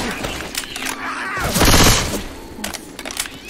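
Gunfire in the zombie shooter Left 4 Dead 2 crackles in short bursts, swelling into a loud sustained volley midway before trailing off into scattered shots, with muffled voices underneath.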